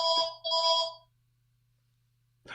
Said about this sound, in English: Just excuse the phone going off there.